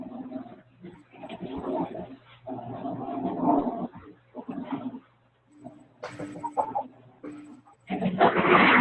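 Dogs bark and whimper in short bursts indoors, with gaps of near silence, and a louder burst at the end.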